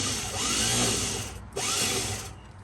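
The weak starter on a 1955 Chevy truck grinds and whirs in two strained cranking bursts with a short break between them, close and fairly loud, with no talking.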